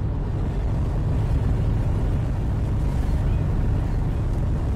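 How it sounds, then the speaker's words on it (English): Steady, loud low-frequency rumble of a large scallop fishing ship's engine in Fishing: North Atlantic, droning continuously and evenly with a faint wash of wind and water noise above it. "Why is this engine so thunderously loud?"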